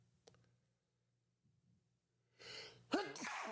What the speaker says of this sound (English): I don't want to sneeze again.